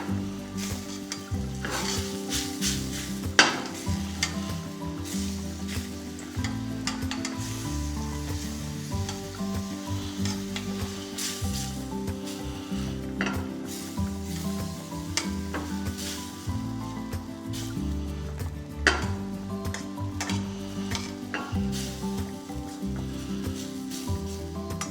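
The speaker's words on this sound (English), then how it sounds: "we're just going to drop it in and just melt that down into the sauce" Cultured butter melting into a pan sauce while being stirred, a continuous close sizzle with repeated spoon strokes and occasional sharp clinks against the pan, no speech.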